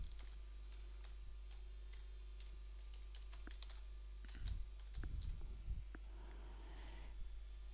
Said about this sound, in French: vous pouvez taper du texte